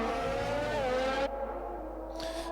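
An F1 race car in F1 2020 brakes hard for a tight corner, its loud engine note dropping sharply and then cutting off, with a brief tire squeal and renewed revving near the end.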